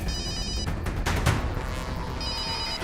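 Late at night, a telephone rings for an incoming call from an unknown number. The ringing is steady and repeating, with a brief louder burst in the middle.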